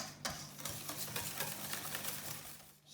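Pancake batter being stirred as flour is mixed in, with a steady run of close, soft scraping and sloshing strokes that continue throughout without any talk.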